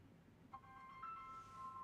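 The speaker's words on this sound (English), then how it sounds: "And then the phone rings." A phone rings faintly in a quiet room during a meditation and Dhamma talk, a thin electronic tone starting partway through and holding steady, with no speech over it.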